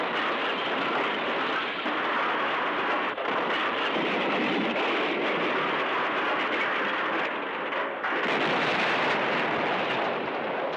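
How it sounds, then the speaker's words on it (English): Explosion of a buzz bomb on a car in a film: a long, loud, continuous rumbling roar with a fresh surge of blast noise late on, sustained without talk. "And of course, the explosion at the bottom, as there always is."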